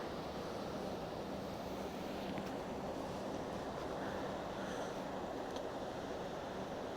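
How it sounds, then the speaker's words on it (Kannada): Ocean waves breaking into white water, a continuous broad wash of surf with wind rushing across the microphone and no distinct individual crashes. "ನನಗೆ ನೀರಲ್ಲಿ ಆ ಥರ ವೈಟ್ ಬಂದು ಹಿಂಗೆ ಒಳಗಡೆ ಹೋಗಿ ಮೇಲೆ ಬರ್ತಾ ಇರ್ತಾರಲ್ಲ ಅದು ಒಂಥರ ಇಷ್ಟ ನೋಡೋಕ್ಕೆ"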